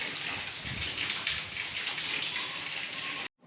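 Steady rain falls overnight on a town in Gujarat, a dense continuous hiss of drops striking surfaces that stays fairly loud throughout, then cuts off abruptly near the end.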